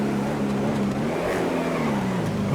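Picador Loco drag car in GTA FiveM, a loud, steady engine roar with a sustained drone and a slight pitch shift, heard alone without talk.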